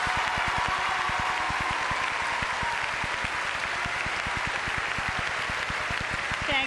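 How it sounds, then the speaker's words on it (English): A graduation audience at the EAHS Class of 1996 ceremony applauds award winners: a steady, dense wash of clapping that holds at an even level throughout, with no voice over it. "A round of applause for all these award winners"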